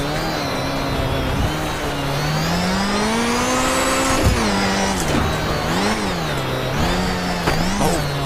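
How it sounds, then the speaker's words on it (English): A Group B Lancia Delta S4 rally car drives up the Transfagarasan mountain road. Its engine note climbs, drops and swings sharply through gear changes and hard braking, loud and close throughout. "Hard on the brakes."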